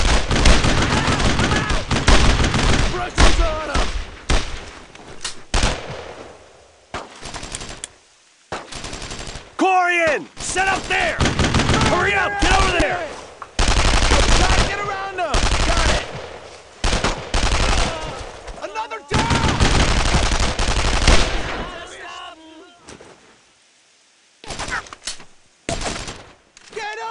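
Bursts of rifle and machine-gun fire from the World War II shooter Brothers in Arms: Road to Hill 30 at St. Come du Mont, loud and clustered into repeated volleys separated by short gaps, with shouted voices mixed in between.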